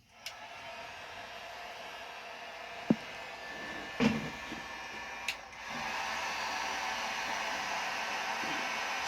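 A heat tool blows steadily over a freshly poured DIY countertop in a school bus conversion, a constant airy whoosh with a few faint clicks and taps, growing louder and fuller about halfway through.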